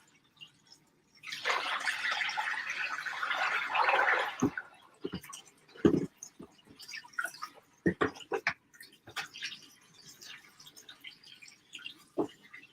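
Dyed fabric being rinsed under running water, a rush of flowing tap water for a few seconds followed by scattered splashes, drips and squelching handling sounds, close and fairly quiet.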